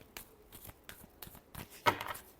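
A deck of tarot cards is shuffled in a few quick, soft riffles, ending with one sharper, louder flick near the end, close and quiet with no one talking.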